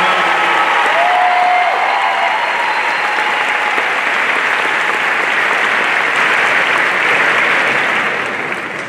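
A large audience at a high school graduation ceremony claps loudly and steadily for the full stretch, a dense wash of applause that tapers off slightly at the end.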